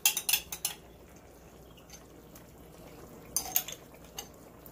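Metal spoon clinks against a pot while Thai green curry paste is stirred into a simmering pot, a quick burst of scraping taps, a quiet bubbling lull, then another cluster of clinks near the end.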